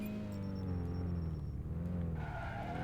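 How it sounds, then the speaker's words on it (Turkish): Tires skid and squeal in a handbrake drift in the Initial Drift Online racing game, a loud continuous screech over a steady engine drone, with the pitch shifting as the slide goes on. "El frenine asılarak şöyle drift yapıyorsunuz."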